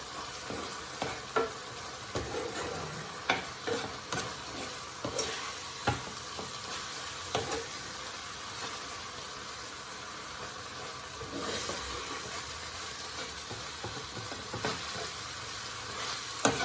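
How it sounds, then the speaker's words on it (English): Minced beef sizzling in a pan with browning as it is stirred, a steady hiss broken by repeated scraping clinks of the spoon, close and alone. "I'm going to give it a stir in. Make sure that the browning is stirred in"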